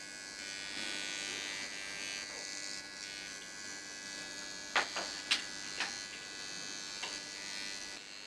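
A nano infusion pen needling facial skin gives a steady high electric buzz throughout, close and even, with a few brief sharper clicks toward the end.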